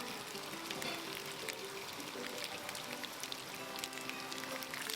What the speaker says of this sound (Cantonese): 慢慢耐心啲，將雞翼嘅一邊煎到金黃先